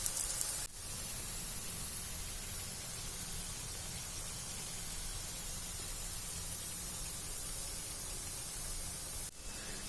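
Aloo paratha cooks on a hot tawa over a medium-high flame with a steady, soft, hissing sizzle that runs unbroken. Brief handling knocks mark the start and end.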